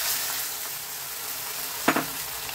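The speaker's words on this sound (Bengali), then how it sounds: "শিমগুলো আমার হালকা ভাজা হয়ে গেছে। এবার এতে আমি পরিমাণ মতো জল দিয়ে দিচ্ছি।" Lightly fried flat beans sizzling in a pan as water is added for a Bengali flat bean and mustard chachari: a steady hiss under a brief louder burst of spluttering near the end.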